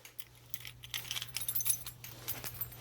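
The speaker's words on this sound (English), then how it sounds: "Got my keys" A bunch of gold keys for a fire alarm panel and pull station jangles and clinks close by, with quick metallic rattles in bursts over a faint steady hum.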